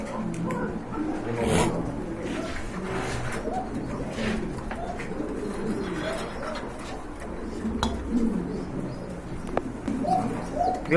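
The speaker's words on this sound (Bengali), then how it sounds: "ভিউয়ার্স আরেক জোড়া কবুতর দেখতে পাচ্ছেন" Domestic pigeons at a seller's, including a red Indian Mumbai pair, coo steadily in soft, overlapping low murmurs close by, with occasional faint chirps and rustles mixed in.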